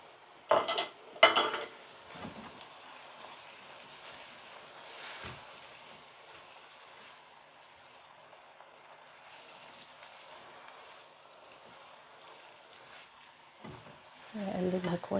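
A spoon clatters briefly against a pan while stirring a mix of red, yellow and green bell peppers, with a few louder scrapes at the start and end and a quiet hiss between them.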